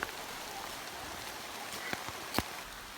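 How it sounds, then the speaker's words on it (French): Equatorial rain falls steadily in a forest, a soft continuous hiss with a few scattered sharper drips and taps, fairly quiet and even throughout. "en suivant une piste dans la forêt sous une pluie équatoriale"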